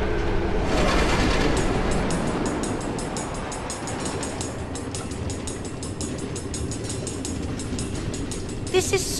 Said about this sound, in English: Automated train tracks running all through the Nether, connecting all the different order members?